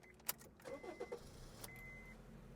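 A car engine cranks briefly with a few chugging pulses, then catches and settles into a steady low idle, heard up close; the car has a repaired exhaust and 93,204 miles.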